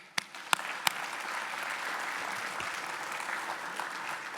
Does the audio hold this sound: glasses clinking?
no